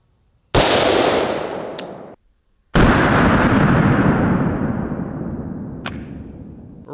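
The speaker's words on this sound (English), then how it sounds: "We're gonna shoot this one out of the Taurus Ultralight 44 Magnum." Two loud, close blasts from a Taurus Ultralight .44 Magnum revolver fired at a bulletproof vest, each a sharp crack trailing into a long, echoing decay, about two seconds apart.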